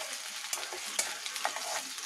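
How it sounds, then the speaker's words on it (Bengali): Onions fry in a pan for a fish curry, giving a close, steady sizzle broken by a few quick stirring scrapes. "তাহলে পেঁয়াজটা ভাজা ভাজা হোক।"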